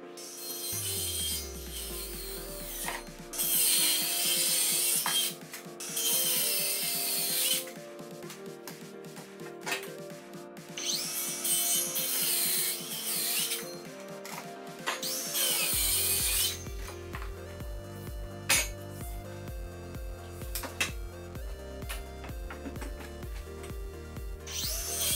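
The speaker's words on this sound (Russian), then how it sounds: "Аккумуляторной пилой через угольник торцую и отрезаю доски." A cordless circular saw crosscuts wooden boards against a square, with several loud bursts of high whining cuts over a steady motor drone, while background music plays throughout.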